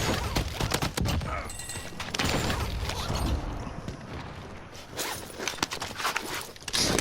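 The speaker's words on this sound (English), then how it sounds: "Taking fire here" Bursts of gunfire in a Call of Duty Warzone match, sharp repeated shots scattered across the moment amid game clatter and movement noise, with no one talking.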